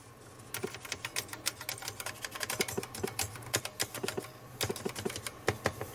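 Keys on a Sinclair ZX Spectrum +2A computer keyboard, several of them faulty, clatter in quick, uneven bursts of sharp clicks, close and fairly quiet, with short pauses between runs and no talking.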